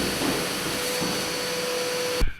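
A Karcher vacuum cleaner runs with a steady, loud mechanical whine and constant tone in a warehouse being renovated, then cuts off abruptly at the end, with no voices over it.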